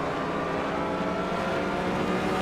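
A 1993 Porsche 911 Turbo races at Feldbergring in a video game, its engine a loud, sustained roar that holds steady throughout with no voices over it.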